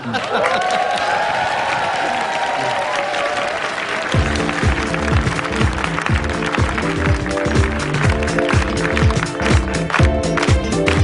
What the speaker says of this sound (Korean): 박수 소리도 뭐 지금 굉장히 간단한 거거든요